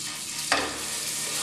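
Half a tablespoon of ginger garlic paste hits hot oil in a pan for a kofta curry, breaking into a sudden loud sizzle that keeps frying steadily.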